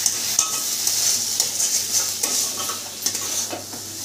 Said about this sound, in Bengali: কাঁচা লঙ্কাগুলো দিয়ে দিলাম, একটু নেড়ে দিলাম।